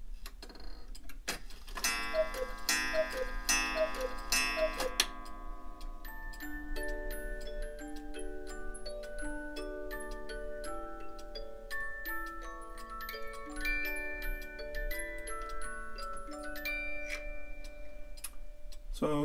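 A hand-carved Black Forest 8-day musical cuckoo clock ticks softly and steadily while its music box plays a tinkling melody, starting with a burst of bright chimes.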